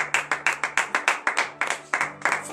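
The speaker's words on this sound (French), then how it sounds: "Donnez de vive acclamation à l'Éternel." A church congregation at a Thursday morning prayer service in Benin claps in acclamation to God, a steady run of about fifteen sharp, rhythmic hand claps, loud and close, with a faint hum beneath.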